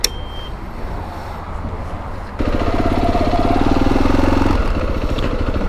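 A motorcycle engine idles with a low, rapid chugging rhythm, growing louder and rougher partway through as it sits running close by.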